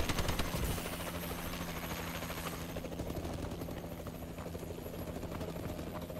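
Allied Warbird aircraft flying overhead in Call of Duty Advanced Warfare on the Detroit map, a steady droning rotor-like engine hum that is loud at first, then settles into a continuous roar.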